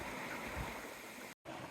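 Scott Mountain Creek, a clear, cold mountain stream, flowing in a steady broadband rush and gurgle, close and continuous, cut by a brief gap of silence near the end.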